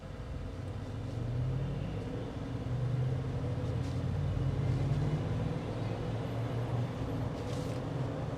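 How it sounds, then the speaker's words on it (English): 2025 Jeep Wrangler Rubicon 392 with its Hemi V8 running, a steady deep rumbling drone heard from inside during a drive, with low tonal engine hum and no talk. "you want to hear that Hemi engine"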